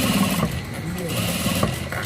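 Domestic sewing machine stitching a fabric hem with steady motor whirr and needle chatter, a short pause mid-clip, close and moderately loud.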